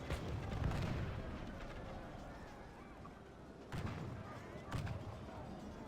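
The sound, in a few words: cannon fire in an English Civil War battle video game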